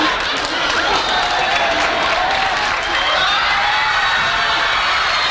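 Studio audience on a television talk show applauding loudly and steadily, a dense wash of clapping with crowd noise that holds for several seconds without letting up.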